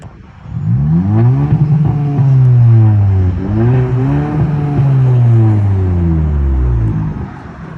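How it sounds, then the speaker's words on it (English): A modified 2021 Kia K5 engine revs up and down a few times, its pitch rising and falling, loud and close throughout. "Give y'all a couple quick revs real quick."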